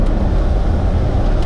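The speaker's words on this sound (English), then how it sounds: "just that rumbling V8, you can just hear it" A Range Rover TDV8 diesel V8 rumbles steadily from inside the car while driving, a loud, continuous low drone mixed with wind buffeting the microphone.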